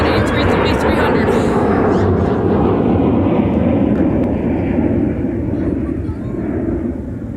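An Airbus A330-300 airliner at MSP airport roars loudly and steadily, a broad rumbling jet noise that holds throughout and eases only slightly toward the end.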